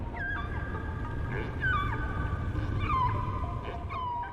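Whale song drifts through a continuous underwater wash: long, gliding, moaning calls rise and fall in pitch, several overlapping tonal sweeps with a squeaky, whimpering quality, moderately loud against steady background noise.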